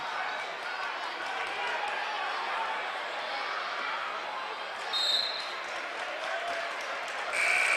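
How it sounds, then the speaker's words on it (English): High school basketball crowd at Coolidge High School's activity center chanting defense, a steady rhythmic roar of many voices under courtside play-by-play commentary, with sneaker squeaks popping out briefly. "Defense chant by the crowd."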